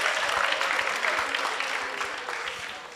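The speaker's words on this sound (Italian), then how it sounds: "Un applauso per la professoressa." An audience applauds at the Premio Asimov 2019 award event at the University of Catania. Dense clapping runs steadily for three seconds and fades slightly toward the end, with no talk over it.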